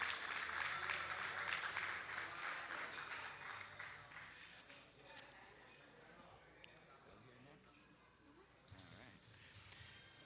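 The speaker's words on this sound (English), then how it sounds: "Big round of applause for John LaFlamme" Applause from the audience at a powerlifting championship in the Cayman Islands, a dense steady clatter of clapping that slowly fades, with voices talking beneath it.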